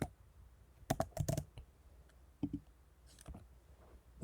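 Keys on a computer keyboard are tapped as a password is entered, giving short bursts of close, crisp clicks with brief pauses between the groups.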